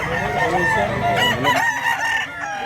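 A rooster for sale at a chicken market crows loudly and close, its strained, wavering call stretching across the moment over a busy background murmur.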